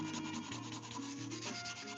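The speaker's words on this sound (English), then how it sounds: "all I have left to do is just a light sand" A wooden knife blade gets a light hand sanding to remove filler and wood glue, a steady close rubbing scrape in even back-and-forth strokes with no voices.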